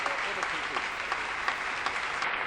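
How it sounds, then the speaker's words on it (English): Applause fills the room at a music theatre awards ceremony, a sustained, fairly loud crowd clapping with scattered sharper claps standing out and no let-up across the stretch. "There's applause for you, Chris"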